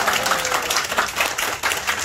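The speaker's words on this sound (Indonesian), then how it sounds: "Tepuk tangan dulu Pak." Applause from residents gathered at a neighborhood community meeting in Indonesia, a brisk, continuous burst of many people clapping together, fairly loud and close, with a slight dip near the end.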